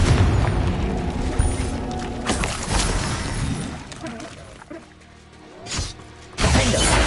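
Confringo fire-blast spells explode in Hogwarts Legacy: several sharp, shattering booms burst out, with the loudest hits near the middle and the end over a busy wash of game effects and ambience.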